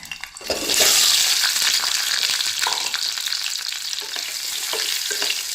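Boiled potatoes drop into hot oil, setting off a loud, close, steady frying sizzle that swells after a brief quieter start and holds with small crackles and stirring.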